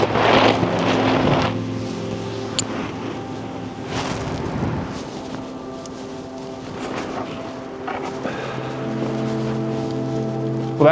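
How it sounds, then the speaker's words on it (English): Strong wind gusts roar and buffet the microphone at a snowy Colorado backcountry camp, loud and rumbling at first, easing to a steadier rush, then swelling again near the end. "gusts are relentless, causing even more difficulty as I secure the tarp with my strongest knots"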